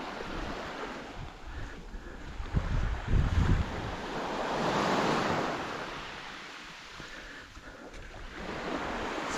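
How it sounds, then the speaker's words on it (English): Ocean waves wash onto a beach near El Nido, Palawan, in a steady roar with swelling surges and some wind noise on the microphone, no voices present. "There's just beaches everywhere around here."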